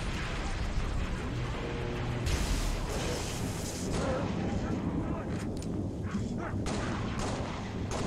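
Gunfire in the video game Halo: Reach, a dense continuous roar of rapid shots and booming blasts with a voice calling out over the battle.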